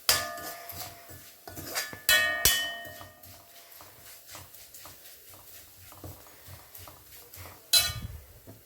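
Ivy gourd fries with crushed chillies in a pan as a utensil clinks and scrapes against the metal, with sharp knocks standing out over a faint sizzle.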